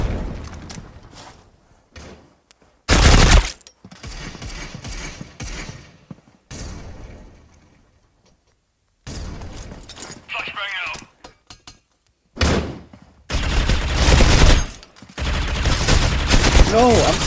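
Gunfire in the online shooter Critical Ops, with bursts of shots and clattering mechanical effects that come in loud clusters and break off into pauses, while players talk over the action.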